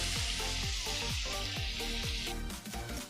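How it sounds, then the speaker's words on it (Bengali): Paneer frying in oil in a pan over a low gas flame, a steady bright sizzle with a regular pulsing scrape of stirring beneath it. "পনিরগুলো হালকা লাল করে ভেজে নেব।"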